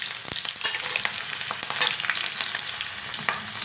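Onions frying in hot oil with cumin, fennel and cinnamon, making a close, dense sizzle with frequent crackles and scraping stirs throughout, and no speech.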